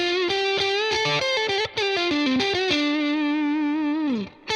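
An electric guitar played through a Boss DS-1 distortion pedal rings out with a sustained, saturated lead line, bent notes and slides over about four seconds, close and alone with no talking.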